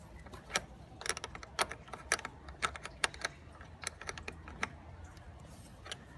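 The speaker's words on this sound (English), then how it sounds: "I'm using a 10 mm wrench to loosen up this nut" A 10 mm wrench works loose the terminal nut on a Proton Persona car battery, making a quick, irregular run of close, crisp metallic clicks over faint background hum.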